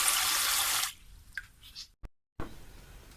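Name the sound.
water running from homemade bottle-neck faucet while washing dishes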